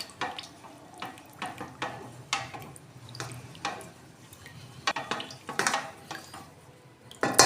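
A whisk or spoon beating eggless fruit cake batter, with cooled caramel water mixed in, inside a bowl, giving quiet repeated scraping and clinking strokes at an uneven rhythm up close, with no talking.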